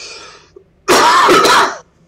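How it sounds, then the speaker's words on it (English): A man coughs in a hard, rough burst of several rapid hacks lasting about a second, close and loud, following a faint throat sound, while he plays Batman: Arkham Origins. "I don't know why I'm coughing so much."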